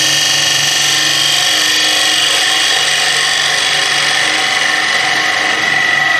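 A skew chisel cutting deep V-grooves into wood spinning on a lathe, a loud continuous scraping hiss over the steady hum of the lathe, with no speech.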